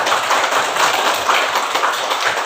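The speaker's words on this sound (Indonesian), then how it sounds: "Kasih apresiasi dulu, tepuk tangan." A classroom of students applauds a group presentation, many hands clapping in a dense, steady patter that stays fairly loud and even for the whole stretch.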